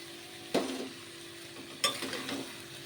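Small cucumber and tomato pieces fry in oil with a soft, steady sizzle. Two distinct utensil stirs clatter against the pan, about a second apart, and no one talks.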